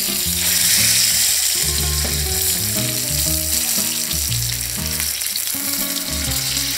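Rice frying in a pan gives a steady, continuous sizzle throughout, with melodic background music playing over it.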